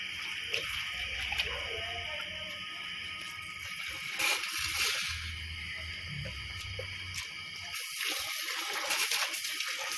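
Running water from a tap splashing over something being rinsed and washed by hand, a steady close gush with intermittent sloshing and handling noises, no talk.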